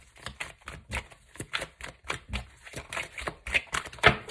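A deck of reading cards is shuffled close up, producing a quick irregular run of crisp slapping and riffling bursts with no talking.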